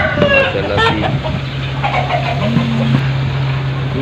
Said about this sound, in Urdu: یہ دیکھیں جی مرغا